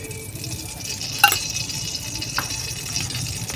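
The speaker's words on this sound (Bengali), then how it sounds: "তো এবার আমি একটু ঘি দিয়ে দেব" Ghee goes into a hot wok on a village clay stove, giving a steady close sizzle and frying hiss with a sharp metallic clink and a few light scrapes.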